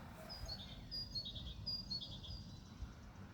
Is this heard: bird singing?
yes